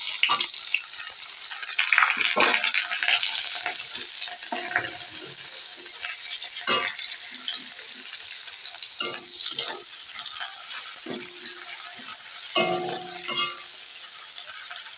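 Onion, garlic and chili fry in a pan for a Bengali red lentil dal with jute leaves, giving a steady bright sizzle with intermittent stirring scrapes and clinks throughout, no voices.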